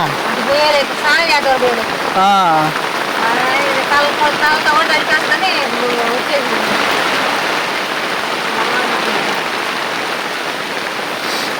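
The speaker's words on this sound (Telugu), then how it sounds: "వాన." Heavy rain pours down at night in a steady, dense hiss that fills the whole stretch, with voices speaking over it near the start.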